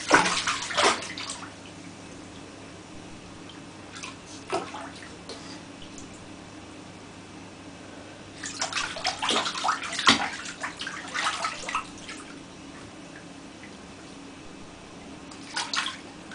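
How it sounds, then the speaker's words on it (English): A young girl splashes water in a bathtub, with bursts of sloshing and slapping at irregular intervals over a quiet background, close and moderately loud. "Show me how you splash."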